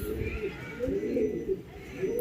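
A fancy breed pigeon, a cross from a white bird, gives soft low cooing close by, running under continuous talk throughout.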